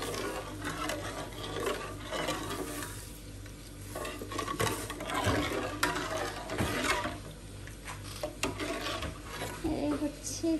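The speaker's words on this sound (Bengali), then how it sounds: "চিনি দিয়ে নেড়ে নিব।" Sugar being stirred into milk in a pot for lachha semai, a soft steady scraping and swishing of the spoon going round and round over a faint background hum.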